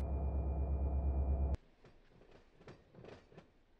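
A BNSF freight train in the Run 8 simulator rumbles steadily with a low engine drone that cuts off abruptly. Softer rhythmic clanks and rolling noises from the train cars follow.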